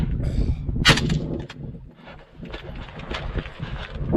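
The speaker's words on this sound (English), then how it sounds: "he's going to fire a burst when he sees the signal" A short burst of gunfire during a military training exercise, one sharp loud report near the start followed by rumbling echoes and wind noise across an outdoor range.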